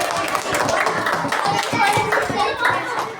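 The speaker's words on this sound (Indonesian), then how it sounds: "Tepuk tangan dulu untuk teman-teman kelompok sini." Schoolchildren clapping in a classroom, a quick, uneven burst of many small hands close by, with children's voices mixed in throughout.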